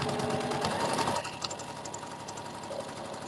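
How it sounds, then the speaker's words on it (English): A sewing machine stitching a seam on a rag quilt runs in a steady, rapid mechanical whir for about a second, then stops, leaving faint handling clicks and room noise. "we're going to sew the same seam on this side, but we're going to sew these into a 4 square"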